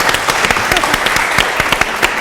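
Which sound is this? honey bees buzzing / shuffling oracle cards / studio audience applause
studio audience applause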